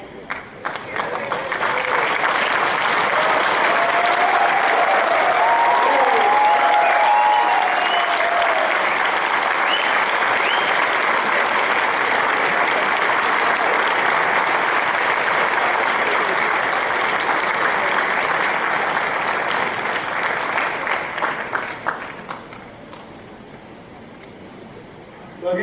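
A hall full of students and their families breaks into loud, sustained applause at a college welcome ceremony, clapping densely for about twenty seconds before it thins and fades out.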